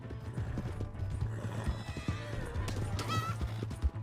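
Horse hooves clip-clop in an uneven run while a horse neighs and whinnies in the Red Dead Redemption 2 video game, with a voice talking faintly underneath.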